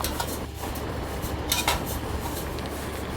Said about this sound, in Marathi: सारखा असा चमच्याने ढवळत राहायचं, नाहीतर जळेल.